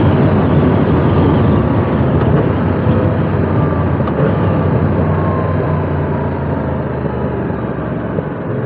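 A Yamaha YZF-R7 700cc CP2 parallel-twin engine pulls hard in fourth gear, a sustained loud drone with strong low rumble and wind buffeting over several seconds, no talking.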